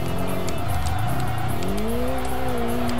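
A car engine in the racing game Kaido Racer 2 drones loudly and steadily, its pitch dipping and then climbing as it revs, with tyre squeal and skidding noise across the whole stretch.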